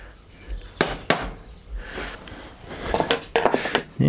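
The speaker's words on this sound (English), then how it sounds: "Once you're in a bit, just chisel it out," A chisel struck with a hammer to cut out wood, sharp bright knocks in irregular groups, some close together and some spaced apart, loud and close with no talk.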